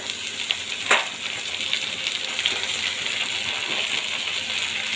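Leafy greens drop into hot oil with fried onion, ginger, garlic, green and dried chillies, a sharp clatter at the start giving way to a dense, steady sizzle with faint stirring, close and loud, no voices.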